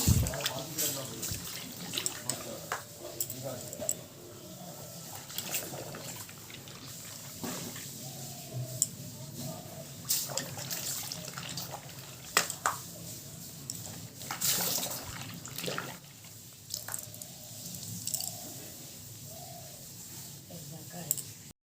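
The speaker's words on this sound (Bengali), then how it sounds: "জামা কাপড়গুলো ভিজিয়ে নিচ্ছি" Clothes are soaked in water with quiet, intermittent sloshing and splashing, while doves coo in the background and a voice speaks now and then.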